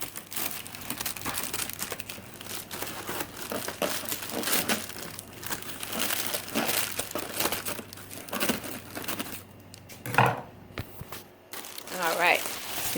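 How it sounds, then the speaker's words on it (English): Close-up crinkling and crunching of an Amazon package being opened, continuous and busy, with a couple of sharper scissor snips or tearing sounds near the end. "Let me get my scissors, see if I can open it."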